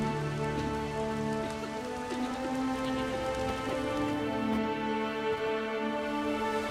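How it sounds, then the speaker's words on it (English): Steady rain pours down in The Witcher 3, a dense, even patter that continues without pause across the whole stretch under a low ambient drone. "There's no point standing here in the rain."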